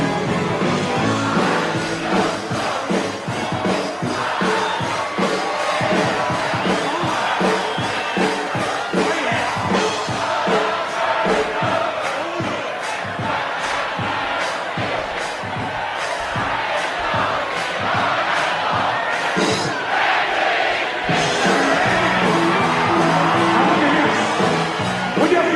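A huge live concert crowd at a Memorial Day show in Washington DC roars and cheers continuously, a dense, loud wall of voices with shouts and whoops rising above it throughout.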